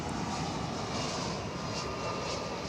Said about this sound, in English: Oh, by golly, it's another UPS cargo plane.